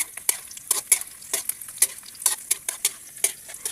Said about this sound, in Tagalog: Tapos isusunod natin yung bombay. Tapos imikos-mikos.